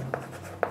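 A pen writes numbers on paper in two short, faint scratches about half a second apart, close by in a quiet room.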